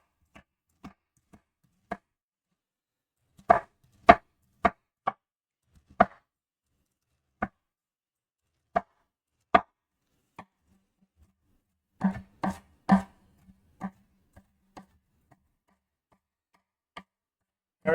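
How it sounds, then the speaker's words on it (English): A knife chopping a shallot on a cutting board, sharp isolated taps in scattered bursts with quiet gaps between, close and clear without talk. "So we're going to cut up our shallot here."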